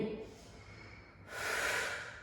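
Heavy, noisy breathing during an abdominal-strengthening and back-care workout: a long breathy exhale, then a louder, forceful rush of breath, close to the listener with no talk over it.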